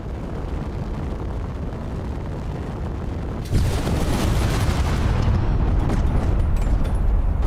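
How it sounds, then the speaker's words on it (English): A large ship blows up in a space video game, a deep sustained rumbling roar that thickens abruptly partway through and stays loud and dense to the end, with no voices over it. "Yeah, I mean, big explosion"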